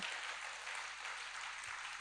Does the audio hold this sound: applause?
yes